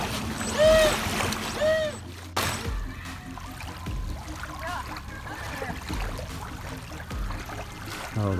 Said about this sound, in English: Oh, the boat flipped over.